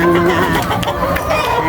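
Backyard chickens cluck and squabble close by, hens and a rooster competing over feed, with a steady run of short overlapping clucks and calls.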